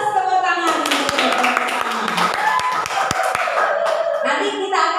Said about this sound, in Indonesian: Wah 100 tepuk tangan